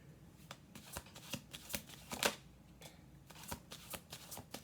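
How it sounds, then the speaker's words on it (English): Repeated crisp riffling and soft slaps of tarot cards being shuffled, a quick uneven rhythm of bursts, close and fairly quiet. "We're going to do one more shuffle."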